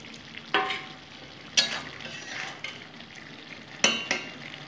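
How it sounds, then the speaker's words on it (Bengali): Pre-fried boroli fish go into a sizzling pan with a few sharp clattering drops and scrapes over a steady, quiet frying hiss. "আমি এখন এই যে বরলি মাছগুলো যে ভেজে রেখেছি এগুলো দিয়ে দেবো"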